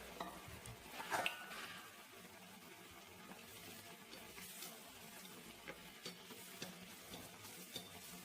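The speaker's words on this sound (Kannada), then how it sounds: "ಹಾಗಾಗಿ ಒಂದೊಂದೇ ಕರಿತಿದ್ದೀನಿ ನಾನು." Bread pakoda frying in oil one piece at a time, a faint steady sizzle with occasional soft stirring clicks and a brief clink of utensils, quiet and without talking.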